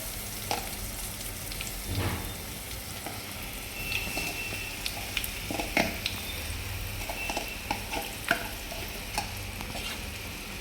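Boiled raw banana pieces frying in a pan, a continuous soft sizzle broken by scraping stirs and light clinks of the spoon against metal, with no talk.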